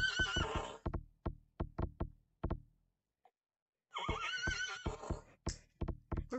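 A horse in the Gorilla Tag VR game neighs loudly in two bursts, each with rhythmic hoof clip-clops, separated by a short silence.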